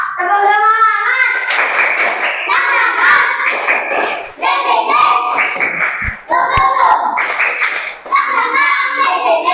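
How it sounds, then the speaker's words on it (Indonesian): Elementary schoolchildren in a classroom perform a rhythmic spirit clap (tepuk semangat), their patterned hand claps punctuated by chanted voices in short bursts with brief pauses between phrases. "1, 2, 3, tepuk semangat."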